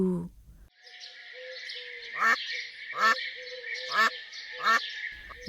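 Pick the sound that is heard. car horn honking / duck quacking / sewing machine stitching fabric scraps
duck quacking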